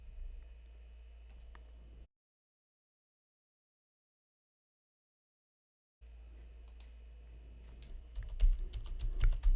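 Someone types an email address on a computer keyboard, a close run of light clicking keystrokes that drops out for a few seconds of silence, then resumes denser and louder, with no one speaking.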